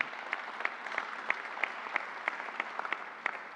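Audience at a vaccination announcement at Suffolk County Community College applauding for health commissioner Dr. Howard Zucker, a thin, fairly faint, steady patter of hand claps with a regular beat running throughout.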